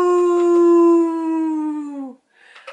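A voice imitates a wolf howling, one long loud sustained tone that slowly falls in pitch at the end, followed by a brief faint sound.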